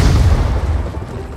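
A tank shell explodes in PUBG Mobile with a heavy, close boom whose deep rumble decays steadily over a second or so.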